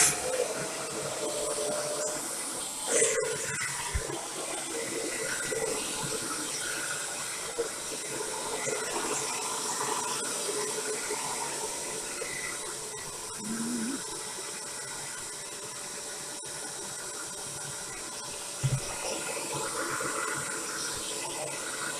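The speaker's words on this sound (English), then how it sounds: "I'm going to do the hairdryer again, so we'll just see what happens." A hair dryer blowing steadily for over twenty seconds, a continuous airy hiss with small bumps and handling noises, fairly quiet and close.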